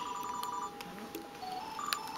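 A telephone rings with a bright repeating electronic ringtone, moderately loud and steady over faint background noise.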